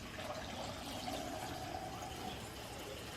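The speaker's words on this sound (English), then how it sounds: "I'm going to put my filtered water in there." Filtered water being poured into a container for homemade apple cider vinegar, a steady, soft, continuous rushing pour with no break and no voices.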